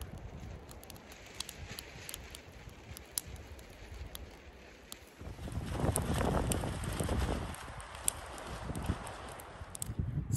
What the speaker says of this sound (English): This wind is just crazy.